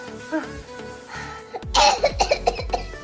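After a quiet stretch with soft music, a child lets out a rapid series of loud, close coughs, about five or six in quick succession.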